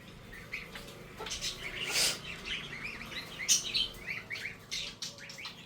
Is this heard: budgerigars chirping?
yes